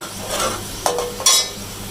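Small onions browning in a hot pan, with a faint sizzle under a few quick stirring scrapes and utensil clinks, brief and close.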